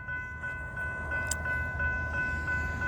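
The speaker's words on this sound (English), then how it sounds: "we're gonna catch the honoring veterans tribute local coming by again" Honoring veterans tribute local train rolling past a level crossing as the gates come down, with a steady rumble of rail cars under a constant high crossing-bell tone and a brief sharp clank.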